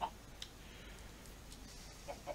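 Chickens cluck softly in Minecraft Feed The Beast, a few faint short clucks spaced apart over a quiet, steady background.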